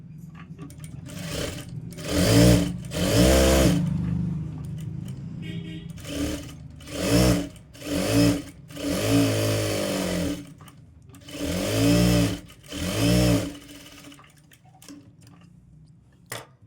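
An electric sewing machine stitches a cutwork blouse, running in loud, close bursts of rapid mechanical chatter separated by short pauses and quieter handling of fabric.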